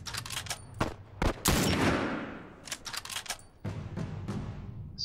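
Sniper rifle shots in The Last of Us Remastered crack out as sharp, loud reports, several spaced bursts with one big blast ringing into a long decaying tail before more rapid cracks follow.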